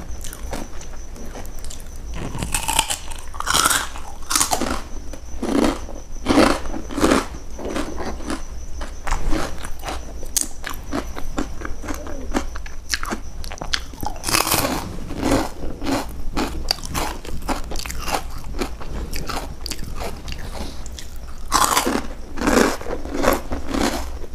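Crunchy pork rinds are bitten and chewed up close, with sharp crunches coming again and again in irregular bursts and quieter munching in between.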